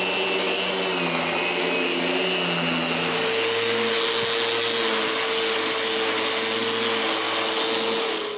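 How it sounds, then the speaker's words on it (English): An orbital sander works across the show face of a wooden bookcase panel in a workshop, giving a steady, loud motor whine with a coarse abrasive hiss that holds constant and eases off slightly at the end. "Then I sand the showing face with the orbital sander."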